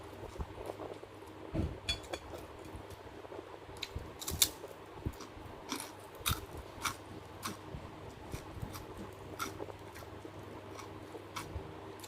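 Someone bites and chews crunchy pork that has not been deep-fried. Close, quiet crisp crunches and clicks come in irregular bursts with no talking.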